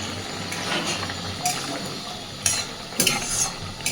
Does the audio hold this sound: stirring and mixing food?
yes